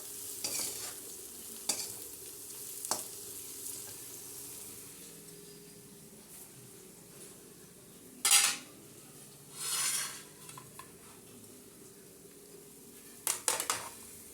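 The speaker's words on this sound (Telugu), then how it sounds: "ఇప్పుడు మనం మీల్ మేకర్ వేసేసుకుందామండి." Soy chunks (meal maker) go into a frying pan and are stirred, with a soft background sizzle and occasional sharp scrapes and clinks of a spoon against the pan.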